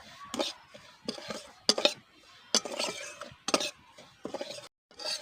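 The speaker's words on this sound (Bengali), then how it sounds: "এবার ভালো করে মিশিয়ে নেব" Semolina being stirred with powdered milk in a pan for a sweet, the spoon scraping and clinking against the metal in repeated short bursts, close and fairly quiet.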